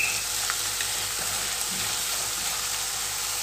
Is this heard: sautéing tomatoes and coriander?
yes